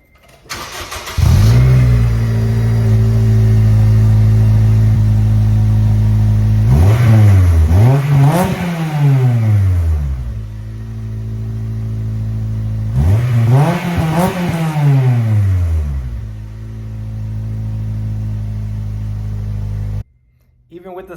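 An Acura RSX with a new exhaust and silencer starts and idles with a deep, loud rumble, then goes through two sets of rising and falling revs that swell and settle back to idle before the engine shuts off.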